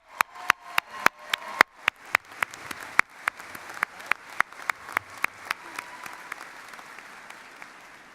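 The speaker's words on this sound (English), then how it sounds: "give Danny another round of applause." A small round of applause at a college commencement ceremony: sparse, distinct claps at a steady pace from a few people, gradually fading.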